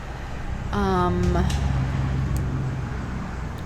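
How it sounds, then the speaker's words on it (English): A loud car passes outside a home studio, a low engine rumble swelling and fading over a few seconds beneath a steady room hum. "Let's let every loud car drive by."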